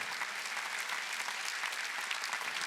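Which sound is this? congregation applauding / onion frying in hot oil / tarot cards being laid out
congregation applauding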